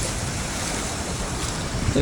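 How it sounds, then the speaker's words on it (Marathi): Water spilling over a weir on the Sina river, a steady close rushing wash that holds even throughout, with a brief faint sound near the end. "इथं बंधाऱ्यावरनं पाणी उतरायला लागले"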